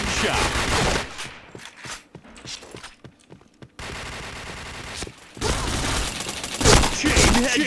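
Rapid gunfire from the first-person shooter PointBlank, loud bursts of shots at the start and end with quieter scattered shots and thuds between, with a player talking briefly over it.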